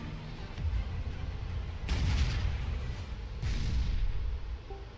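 The Shooting star weapon fires in the tank artillery game Shellshock Live, a string of rumbling booms and bursts of impacts in two loud waves over a low background.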